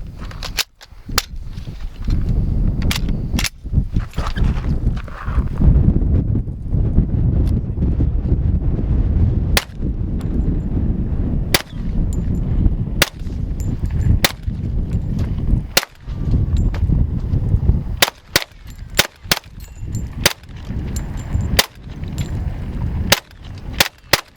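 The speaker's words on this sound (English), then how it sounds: "Okay, Mike, let's put a few rounds through this baby." A World War II Reising Model 60 rifle fires 230-grain .45 ACP ball rounds outdoors, with loud sharp single shots at irregular intervals, some in quick pairs, over steady wind rumble against the microphone.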